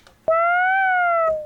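A kitten meow synthesized on a Yamaha CX5M music computer: one sustained electronic mew that rises slightly then falls, clean and tonal, preceded by a brief click and ending in a soft tail.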